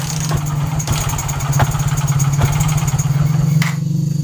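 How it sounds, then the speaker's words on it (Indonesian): A motorcycle with an ignition fault is kick-started at close range but does not catch, giving a fast run of rhythmic mechanical thumps and rattles with a few sharper knocks. "untuk motor seperti ini kita engkol sudah tidak hidup"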